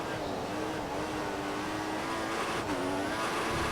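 A Formula 1 race car in the F1 2014 video game at the Austrian Grand Prix, a steady engine whine with tyres squealing as the wheels spin under oversteer, heard continuously and fairly close.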